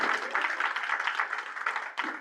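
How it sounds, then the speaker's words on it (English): An audience at a real-estate listing seminar breaks into applause, a dense wash of clapping that holds steady for about two seconds, moderately loud with a brief dip near the end. "give them a round of applause."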